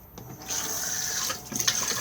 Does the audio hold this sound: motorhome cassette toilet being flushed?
yes